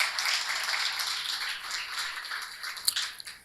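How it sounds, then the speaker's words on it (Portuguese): An audience claps for an architect joining a panel on the Reviver Centro program, a steady bright patter of many hands that fades toward the end with a few sharper last claps. "Palmas para a Andréa, por favor."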